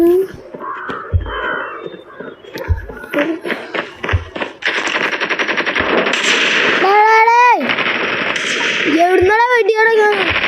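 Video game gunfire crackles in rapid automatic bursts and single shots, loud and close, mixed with other game effects and a rising whistling tone, while someone talks over part of it.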